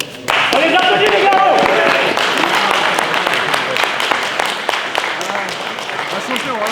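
A crowd claps and applauds after a kickboxing fight, loud and dense at first and then thinning out, with voices talking over it.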